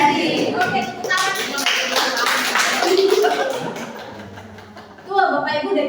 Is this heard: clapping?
yes